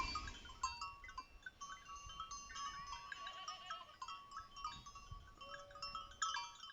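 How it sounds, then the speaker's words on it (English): Goats on the slopes of Mount Aenos bleat in short wavering calls over a busy outdoor background of birdsong and rustling, the animals sounding moderately close with no talking. "goats doing goaty things"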